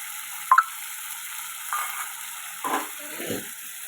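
A paste of ground fennel, cumin, dried chilli and cardamom is added to hot oil for a fish curry, giving a sharp spatter and then short bursts of sizzling and stirring over a steady faint hiss.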